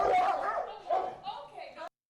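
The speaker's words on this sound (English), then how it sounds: "two dogs fighting" Two dogs fighting, with harsh growls and barks packed into a tense two-second burst. It sounds close and loud, and voices overlap the noise before it cuts off abruptly.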